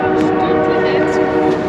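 A train horn blares loudly and continuously at close range, a steady harmonic tone in a forest area with railway traffic, with faint background noise but no clear talk.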